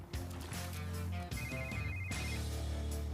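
A telephone bell rings indoors in a restoration shop, giving a few loud, trilling bursts broken by short pauses, with no talk over it.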